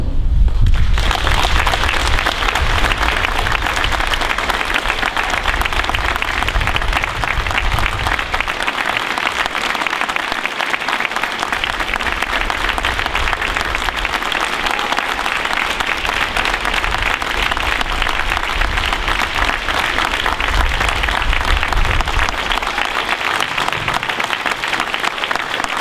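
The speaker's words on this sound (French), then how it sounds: "Je souhaite ce matin que nous puissions toutes et tous les applaudir chaleureusement." Sustained warm applause from an audience gathered in a school courtyard, dense steady clapping that carries on for a long stretch, close and loud throughout.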